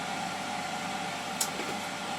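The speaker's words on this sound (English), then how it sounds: "my desoldering tool is making a racket as usual." A desoldering tool's vacuum pump runs during fault finding on a Roberts RP28 transistor radio, giving a steady, moderately loud mechanical drone with a brief sharper tick near the end and no talking.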